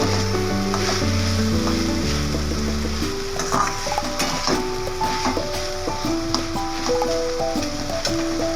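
Dheki shaak greens frying uncovered in a pan for Bengali chachhari, giving a loud, continuous close sizzle throughout, layered with steady tonal music; no speech.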